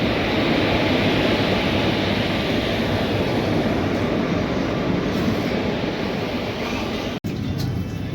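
The Nizamabad–Pandharpur Express, hauled by a Bhusawal-shed WAP4 electric locomotive, pulls into Basar railway station with a loud, continuous rumble and rattle that briefly cuts out near the end.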